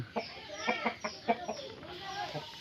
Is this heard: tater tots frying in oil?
no